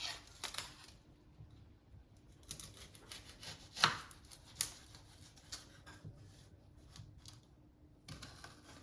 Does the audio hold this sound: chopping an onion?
yes